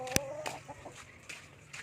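A brooding hen sitting on Rhode Island Red eggs gives a few short, close clucks, one sharper call at the start followed by softer scattered clucks.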